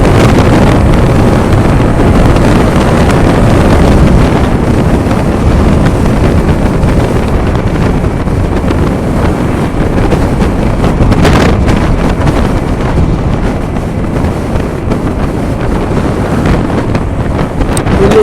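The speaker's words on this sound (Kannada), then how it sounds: "ಇಲ್ಲಿ ಸ್ಪೀಡ್ ಹೋಗೋಕ್ಕಂತೂ ಸ್ವಲ್ಪ ಡೌಟು, ಯಾಕಂದರೆ ಹೆವಿ ವಿಂಡ್ ಬ್ಲಾಸ್ಟ್ ಇದೆ" Heavy wind hits a moving MT 15 motorcycle on the road to Dhanushkodi, a constant loud, close rumble and buffeting of wind against the microphone with no talk.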